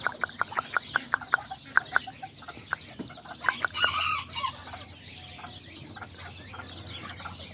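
Kikiriki hens cluck in a quick, sharp series of calls close by, followed by a rooster's crow and scattered bird noises over quiet farmyard background.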